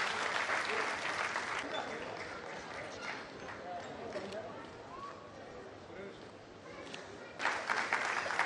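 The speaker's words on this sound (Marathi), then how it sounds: "जोरदार टाळ्या तिच्यासाठी।" Crowd applause for an artist at a public event rises in rolling waves, fading to a softer patter in the middle and swelling again near the end, with faint voices mixed in.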